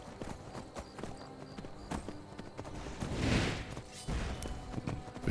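Horse hooves clip-clop in the video game Skyrim, a steady run of light, repeated hoof strikes at moderate distance over ambient game sounds, with a brief louder rushing swell partway through.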